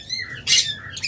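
Lovebirds, including red-eyed lutino pairs, give a harsh, loud burst of squawking mid-clip amid fainter chirps, with no talk.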